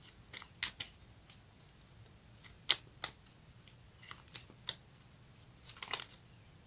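Tarot cards are shuffled and handled for a destiny card pull, with scattered crisp riffling snaps and flicks spaced irregularly over a quiet background.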